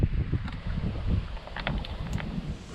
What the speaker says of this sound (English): Wicked windy out.